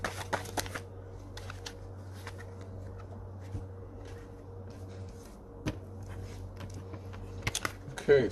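Tarot cards are shuffled and drawn, with crisp flicks and slaps in bursts at the start and near the end, close and moderately loud over a low steady hum.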